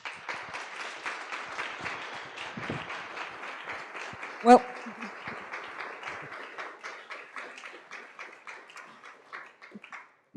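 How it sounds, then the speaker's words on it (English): An audience at a game awards ceremony claps in a dense, steady round of applause. It fades toward the end, with a brief voice partway through. "But please, a round of applause for Min Lee Marti."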